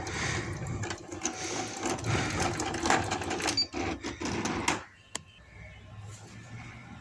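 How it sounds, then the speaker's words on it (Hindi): Sewing machine stitching the hem of palazzo pants, a dense rapid mechanical whir running steadily for several seconds, then stopping abruptly into quiet room tone. "तो मैं इसे पैर बहे की सिलाई लगा दूंगी।"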